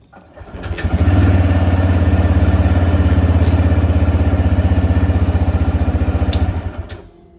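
A TVS Raider 125 motorcycle engine runs steadily after starting, a loud, close, even idle with a fast regular pulse holding for several seconds before cutting off, no talking over it.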